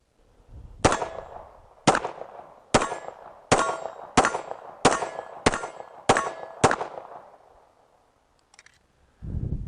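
Kimber Rapide Black Ice pistol fired at a range, eight sharp, loud shots at a steady, slightly uneven pace, each with a ringing decay, followed by a quiet pause and a low rumble at the end.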